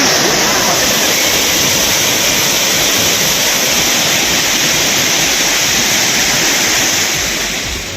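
Torrential roar of the Courtallam waterfalls in flood after heavy rain, a loud, steady broadband rush of falling water with no pauses, easing slightly only in the last second.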